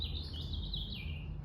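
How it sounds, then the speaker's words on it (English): A bird right at a window calls loudly in a steady stream of high chirping, close and clear over a low background hum. "I love that this bird came to this window and is being really loud"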